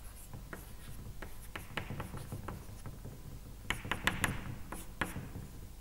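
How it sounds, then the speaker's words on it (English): Chalk scratches and taps on a blackboard during an organic chemistry lecture, a string of short strokes with pauses between them and a denser burst near the end, fairly close and with no talk over it. "I will just write it to the blackboard"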